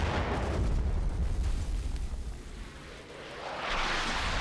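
Artillery fire in the World War II game Combat Mission: Battle for Normandy: heavy, rumbling explosions rolling one into another, booming loudly with a brief dip before another blast swells back up.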